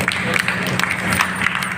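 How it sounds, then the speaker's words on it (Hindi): Audience applause at a yoga, Ayurveda and Swadeshi workers' conference honouring guests, a steady dense patter of many hands clapping with a busy hall murmur underneath. "तालियों की अपेक्षा आप सभी से।"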